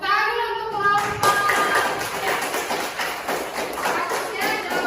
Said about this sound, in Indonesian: Oke, tepuk tangan dulu untuk kelompok.